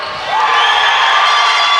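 A basketball crowd in a men's National Cup game, Killester against Templeogue, erupts after a dunk with a loud, sustained cheer and whoops that swell quickly and hold.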